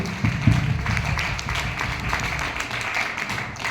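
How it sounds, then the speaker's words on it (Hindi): Audience applause rings out at a BBS Ranchi event in a hall as a guest is welcomed onto the stage, a steady wash of clapping lasting the whole stretch with no voices over it. "जोरदार तालियां"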